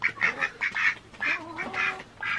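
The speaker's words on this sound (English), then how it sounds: "Crazy ducks." Several ducks beside a new winter waterer quack loudly and close by in quick, repeated bursts, with no talk.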